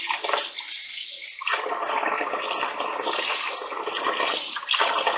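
Running cold water splashing and rushing as stevia leaves are rinsed clean by hand, a close, continuous wash with a short quieter dip early on.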